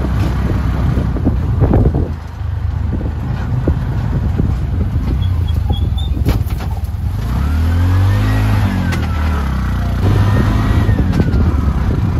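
A CNG auto-rickshaw travels a hilly road from Dighinala, its engine droning steadily under heavy wind buffeting, with a rising and falling rev around the middle and rattling bumps along the way, and no speech.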